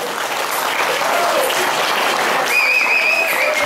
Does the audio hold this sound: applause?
yes